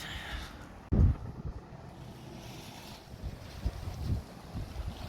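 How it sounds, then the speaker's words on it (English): Steady wind noise rumbles across the microphone, with a sharp loud gust buffeting it near the start and smaller gusts later. "It's a bit windy."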